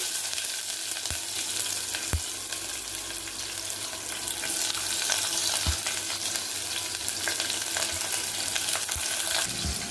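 Mustard seeds, chana dal and large onion sliced lengthwise frying in oil make a steady, close sizzle. It is broken by a few sharp clinks and pops from stirring, and no one speaks.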